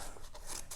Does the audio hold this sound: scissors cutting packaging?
yes